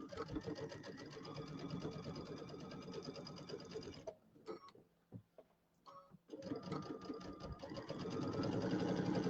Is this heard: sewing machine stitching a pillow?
yes